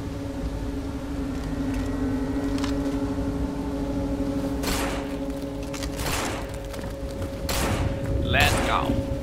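A large weapon fires in a zombie survival video game, giving several sharp, loud shots in the later seconds over a steady low in-game hum, with players talking.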